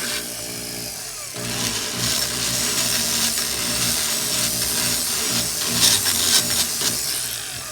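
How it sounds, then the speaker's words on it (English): A porting tool grinds the ports of a KTM/Husqvarna 250–300 two-stroke cylinder at low speed, a close, loud, continuous rasping hum with a steady motor drone underneath. "That's why I'm running the tool at a real low speed right now."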